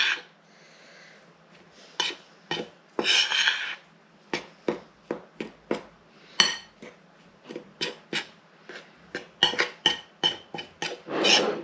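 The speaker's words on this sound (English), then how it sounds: "I'm going to mix this all together." A utensil clinks and scrapes against a bowl in repeated short strokes while a chicken burger mixture seasoned with cayenne pepper is stirred together, close and crisp with brief gaps between.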